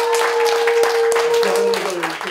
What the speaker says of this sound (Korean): 여러분들의 졸업식을 힘찬 박수로